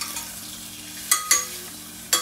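Duck breast browns in a frying pan with a soft, steady sizzle, broken by three sharp scraping stirs or clatters of a utensil against the pan.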